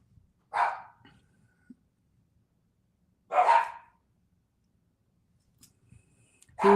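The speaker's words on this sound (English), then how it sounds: "dogs barking." Dogs barking indoors as a family comes home, three short separate bursts of barking spaced a few seconds apart against near silence.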